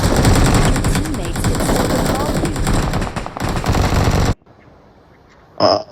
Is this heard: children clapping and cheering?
no